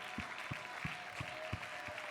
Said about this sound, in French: Nous pouvons applaudir pour le Seigneur.